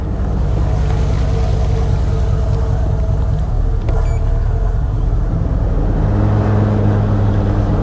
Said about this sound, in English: Plenty of power in those thrusters when you need it.